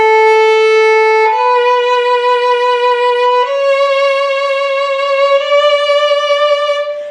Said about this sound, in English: what they're really worried about is this wide, romantic, super emotional vibrato